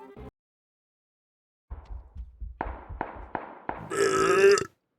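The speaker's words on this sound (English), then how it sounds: "I burped." A man burps several times in a row, short gulping belches building to one long, loud, drawn-out burp at the end, close and clear with no talking over it.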